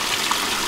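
A Bestway pool filter pump at a Costco-bought pool runs with a steady, loud wash of gushing water, close and continuous without any pause.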